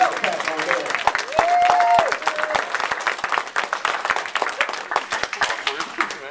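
Audience at a stand-up comedy show applauds and cheers, a dense burst of clapping with scattered whoops, moderately loud and sustained, with voices calling out over it.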